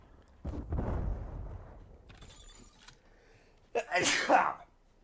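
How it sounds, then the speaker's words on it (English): A person sneezing close to the microphone, a hard explosive sneeze near the end after muffled rustling and a short breathy buildup. "Oh, God, that sneeze came back."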